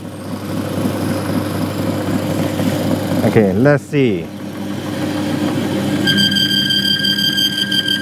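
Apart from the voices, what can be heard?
bearing oil test machine running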